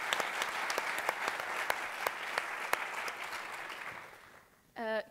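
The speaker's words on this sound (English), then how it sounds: "another round of applause for Emergency MC" Steady applause from an audience, dense clapping that fades out near the end before a voice briefly speaks.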